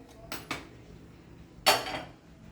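A metal pan is set down on a stovetop in a kitchen where beans thoran is being cooked. Two quick clanks come first, then a louder metallic clatter a moment later, with quiet between them.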